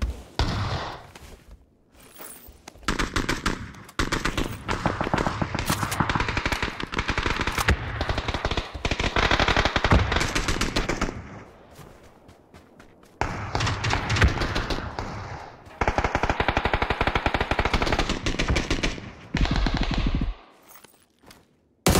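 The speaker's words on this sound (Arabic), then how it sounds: "طلقة طلقة طلقة طلقة" Machine gun fire in the video game PUBG, repeated long rapid bursts separated by short pauses, loud and close.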